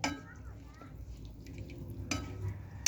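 Stirring a pot of dog food with carrots and malunggay, soft scraping and wet mixing sounds close by, with a sharper clatter near the end and a voice faintly in the background.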